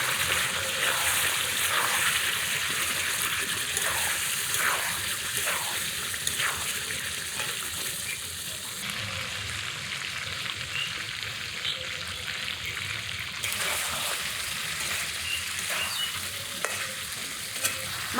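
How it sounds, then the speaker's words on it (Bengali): Mutton and potatoes being stirred and fried in a pan, a steady sizzle broken by soft scraping strokes of the spoon throughout, close and fairly loud with no talking. "এখন নেড়ে চেড়ে কষিয়ে নিচ্ছি"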